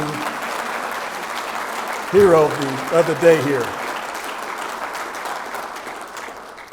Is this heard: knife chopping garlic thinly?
no